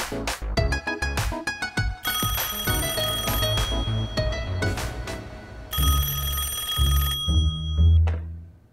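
An old-fashioned telephone bell rings in rapid metallic bursts, loud and close, repeating several times before fading out.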